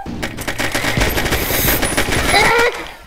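Pistol fire from the browser shooter ShellShock.io crackles as a loud, rapid barrage of close-up shots, heavy and almost continuous for a few seconds.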